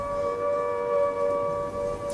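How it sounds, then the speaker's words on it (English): Air raid siren sounding the all-clear during wartime bombing, a steady sustained wail holding an unwavering pitch, moderately loud and continuous with no voices over it. "And then the all-clear siren sounded."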